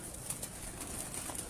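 Pigeon cooing softly on a rooftop loft among teddy pigeons, faint and steady over a hissy background, with a few brief soft coos and no talking.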